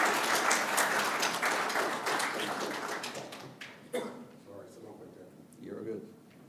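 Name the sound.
audience applause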